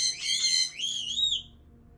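Caged pet birds sound two loud, whistle-like calls in a row. The first is a shrill trill and the second a sliding whistle, heard alone with no talking.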